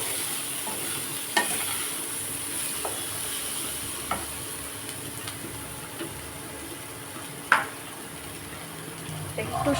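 Moong dal and vegetable bhaji stir-fried in a pan: a steady soft sizzle with a few sharp scraping clinks of a spatula, moderately close, with no talking.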